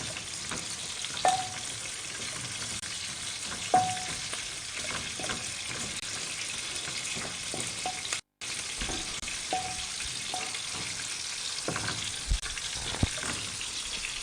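Pork chops and onion pan-frying give a steady, moderate sizzle with occasional sharp pops and spatula taps, continuing evenly apart from one brief dropout.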